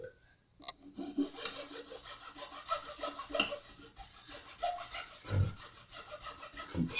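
Filing the slot of a hard composite nut on an Ibanez four-string bass, heard as close, quiet rasping strokes in an uneven rhythm with small ticks and scrapes, and no talking.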